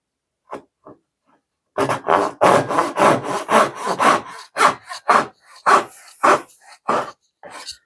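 A Blackburn dovetail saw with factory-set, never-sharpened teeth cuts wood in a rapid series of loud, close rasping strokes, preceded by a few light taps.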